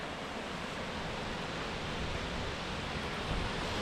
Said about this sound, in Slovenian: Slap še z zgornje strani, res čudovit slap.